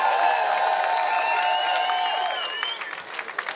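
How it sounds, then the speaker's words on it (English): Crowd applause at a boxing event after a three-round bout, a sustained wash of clapping and cheering that fades near the end, with a sustained tone sounding over the crowd. "And a big round of applause for both of these men, please, after three hard-fought rounds."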